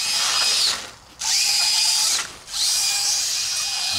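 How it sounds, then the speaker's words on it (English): A vintage RC car with modern electronics and a stripped transmission whines loudly in high-pitched bursts. Its motor revs three times, with brief drops between runs and a grinding, rattly edge to the tone. "I can hear that, what I thought to be a stripped transmission."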